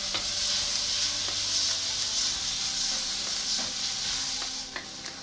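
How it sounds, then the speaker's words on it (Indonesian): Garlic and shallots sautéing in hot oil, a steady close sizzle and hiss filling the whole stretch, with a few faint scrapes of stirring near the end. "setelah minyak panas, tumis bawang putih, bawang merah"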